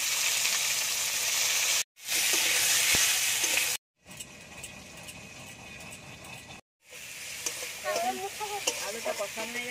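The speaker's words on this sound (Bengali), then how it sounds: "এবার আলুটা ভেজে নেব।" Potatoes frying in hot oil in a wok, a loud, dense hiss broken by short gaps, with later stretches of spatula scraping and stirring clatter.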